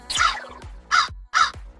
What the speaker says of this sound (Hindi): कौवा बोला।